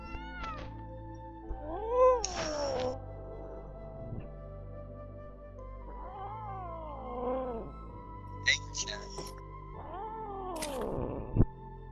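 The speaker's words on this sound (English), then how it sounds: "Loud cat noises." A cat meows loudly and repeatedly, drawn-out wailing cries close to the listener with short pauses between them.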